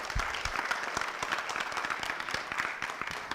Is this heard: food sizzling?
no